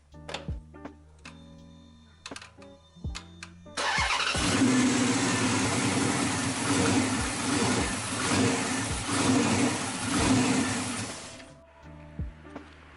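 A car's engine cranks and starts after its MAP sensor was cleaned, then runs with a steady loud rumbling roar for about eight seconds before cutting off, with clicks and clunks from handling the car before and after.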